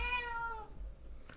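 A single cat meows, a clear drawn-out cry that fades after about half a second, close to the microphone in a quiet room, followed by faint rustling.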